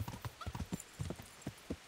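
Horses at a horse dealer in the video game Kingdom Come: Deliverance: a rhythmic clip-clop of hooves at moderate distance, with a faint whinny mixed in.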